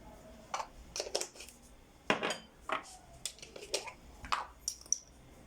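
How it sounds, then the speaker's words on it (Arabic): Spoon clinking and scraping against a bowl as garlic powder, onion powder and other coating ingredients for cauliflower are stirred together, a quick run of close, sharp metallic taps with no talk. "وهنقلب كل المكونات دي في بعضها"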